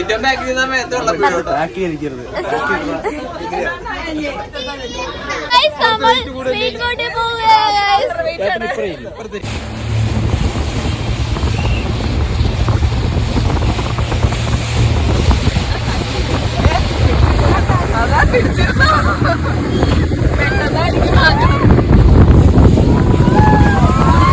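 Speedboat ride on backwater near Alappuzha: people talk over an engine at first, then strong wind buffeting and rushing water dominate as the boat speeds along, loud and continuous.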